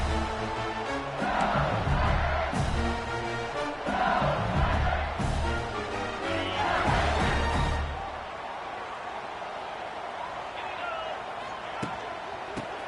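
Stadium crowd noise in an NCAA college football video game, a steady broad roar under a game commentator's voice that fades down after several seconds, leaving a quieter murmur.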